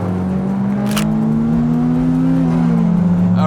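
A 2020 Honda Civic Type R's engine revs hard into VTEC, heard from inside the cabin as a loud, rising drone that climbs steadily and then eases slightly at the end.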